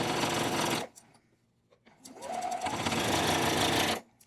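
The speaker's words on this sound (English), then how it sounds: "I'm going to stitch down each side." Sewing machine stitching down the sides of a quilted zipper pouch, a steady close whirring burst, a pause of near silence, then a second longer run of continuous stitching.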